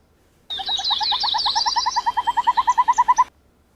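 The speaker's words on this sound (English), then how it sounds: "they've got more of a trilling sound to their call." A small owl gives a trilling call, a single close run of rapid pulsed notes lasting about three seconds that becomes slower and more distinctly spaced toward the end, heard alone without talk.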